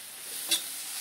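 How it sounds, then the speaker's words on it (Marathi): Onion, turmeric and salt are stirred in a pan over a wood-fired clay stove: a soft sizzle with a single quick scrape of the spoon. "मिक्स करून घ्यायचं"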